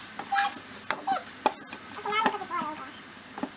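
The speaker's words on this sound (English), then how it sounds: "we're gonna stir fry this up until it's very well caramelized" Food stir-fries in a pot with intermittent scraping and clatter of a utensil against the pan over a soft sizzle, with short sharp knocks and brief squeaky sounds scattered throughout.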